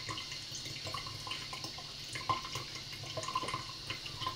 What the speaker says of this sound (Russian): Обыкновенно больше идет шума от слива воды.